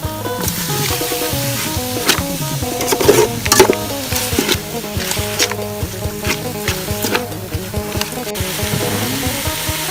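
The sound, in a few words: food stir-frying and sizzling in pan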